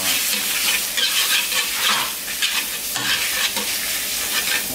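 Mèn mén, a Hmong corn dish, being stir-fried in rendered chicken fat: a steady loud sizzle with continuous scraping and stirring strokes, up close and without talk.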